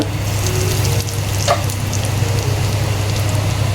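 Cumin seeds and asafoetida sizzling in hot oil for chaat masala, a loud, even hiss of frying that holds steady throughout with no voices over it.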